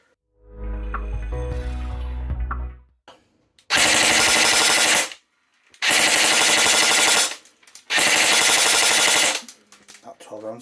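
A Specna Arms Rock River Arms SA-E03 Edge airsoft rifle firing on full auto in three loud sustained bursts of rapid buzzing shots, preceded by a brief mechanical whir.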